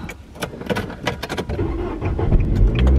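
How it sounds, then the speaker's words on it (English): A car engine cranks and catches in a parked car, the start rising into a steady idle rumble over a few seconds, with jangling keys and small interior clicks near the start; no one speaks. "I'm just turning the car on."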